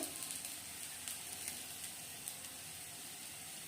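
Onions sizzle in a frying pan while turmeric and coriander powder go in for a mator paneer masala, producing a steady, close, hissing crackle with small pops that keeps an even level throughout.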